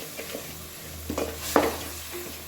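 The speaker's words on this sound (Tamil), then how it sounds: "இப்போ ஹை ஃப்ளேமில் வச்சுட்டு நம்ம நல்லா மிக்ஸ் பண்ணுவோம்" Chickpeas with a splash of water and ground coriander are stirred in a pan over high flame for dry tawa chana masala, with a low hiss and a couple of brief scraping strokes; short and fairly quiet.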